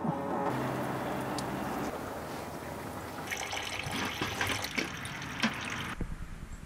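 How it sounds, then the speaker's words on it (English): Engine coolant draining from a car's radiator drain, a steady close trickle and splash of fluid running into a container, growing more splashy and uneven toward the end. "loosen it until it starts draining fluid. It usually takes a while for the fluid to drain out."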